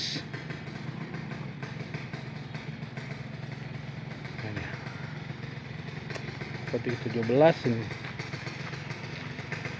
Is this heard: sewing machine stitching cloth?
no